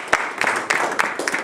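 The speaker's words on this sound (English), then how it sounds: "I'd like a little round of applause for him" An audience at a medical presentation gives a short round of applause, a dense burst of many hands clapping close by, uneven and lively for just over a second.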